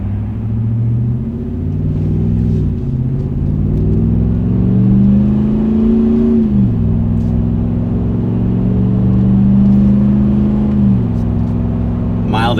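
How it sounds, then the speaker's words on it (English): A Ram 1500 with the 5.7L HEMI V8 and an MBRP muffler accelerates onto a highway, giving a loud, steady deep exhaust rumble that rises in pitch and drops as it shifts gears. "It's an improved and a more aggressive exhaust note"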